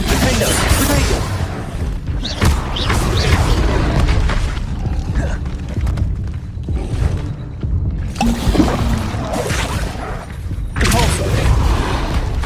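Spell explosions and booming impacts during Hogwarts Legacy combat, repeated loud blasts and thuds in dense succession with bursts of crackle, continuous through the fight.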